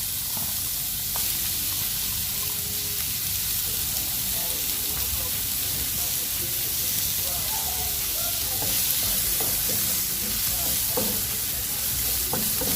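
Sliced onion drops into curry leaves frying in hot oil in a home kitchen, raising a steady dense sizzle with scattered crackles and pops that holds at an even loudness throughout, near and alone.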